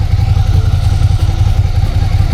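A motorcycle engine runs loud and close with a steady low throb, chugging evenly throughout without a clear rise in revs, as the motorcycle pulls away on a practice yard during a riding test.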